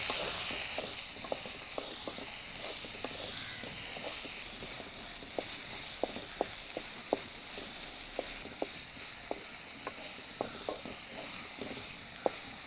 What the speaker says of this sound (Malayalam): തേങ്ങയും കൂടെ ഇട്ട് വഴറ്റുക.